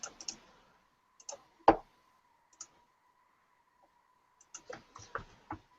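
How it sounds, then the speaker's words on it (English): An email address being typed on a computer keyboard: sparse, close key clicks in small bursts separated by pauses, quiet and with no talk. "So I have to type that darn thing again."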